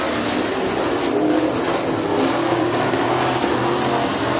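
Race cars roar around McKean County Raceway during a heat race, with a dense, loud, sustained engine drone that swells slightly as cars pass, and no talking.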